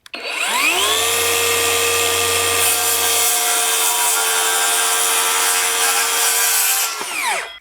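Kobalt XTR 7-1/4 inch circular saw spins up and cuts through wood, a loud, close, steady whine with a sustained cutting roar for about six seconds before winding down, with no talking.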